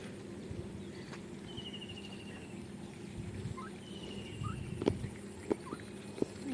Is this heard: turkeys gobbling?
yes